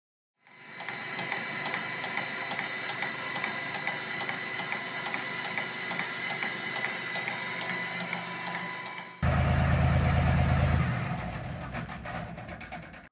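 Cazeneuve 575 metal lathe with 1.50 m between centres running in a workshop, a steady whirring mechanical drone with a regular rhythmic tick, shifting abruptly to a heavier, louder rumble near the end.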